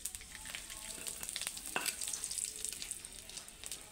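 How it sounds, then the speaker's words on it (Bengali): Panch phoron spices and a bay leaf fry in hot oil in a wok, giving a steady close crackling sizzle with a few sharper pops and scrapes, with no voices. "দেখো কড়াতে আবারও তেল দিয়েছি, দিয়ে দেবো 5 ফোড়ন"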